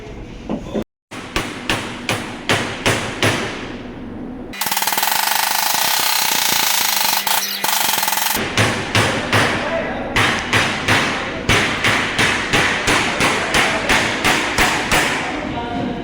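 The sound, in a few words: hammering to bend checker plate for van workshop conversion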